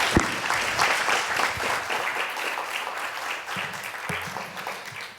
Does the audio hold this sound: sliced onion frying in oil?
no